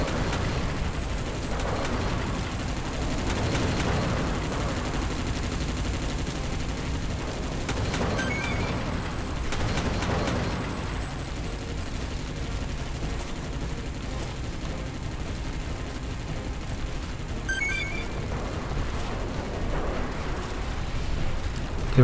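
Automated defense turrets in Earth Defense Force 2017 on Xbox fire in dense, sustained bursts with booming impacts, loud and continuous for the whole stretch, set against a rumbling game soundtrack.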